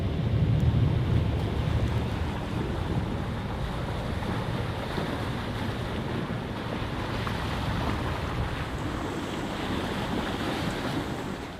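A sailboat running under its motor through choppy ocean swell on a windy day, with a continuous wash of waves and buffeting wind roar over a low steady drone, with no voices.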